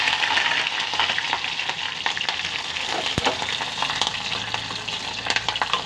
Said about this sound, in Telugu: వెంజాయిలు వేగుతున్నాయి చూడండి